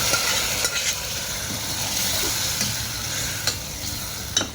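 A cooked meat and potato curry hits a hot pan and sizzles steadily, with a few sharp clinks and scrapes breaking through the constant frying hiss.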